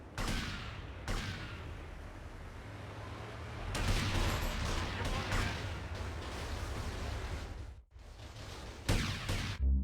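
Repeated gunfire bursts from GTA Vice City, loud and close, arriving in clusters with short gaps over a steady game background, a brief pause near the end before more shots.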